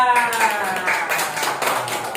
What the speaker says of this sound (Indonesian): Pintar, tepuk tangan pada Akila